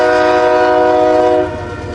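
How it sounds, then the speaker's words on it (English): A loud, sustained diesel horn blast from a westbound empty BNSF coal train passing on the Transcon line near a railroad diamond, holding steady and then dropping off as rumbling rail noise continues. "this is a westbound empty coal drag, I believe."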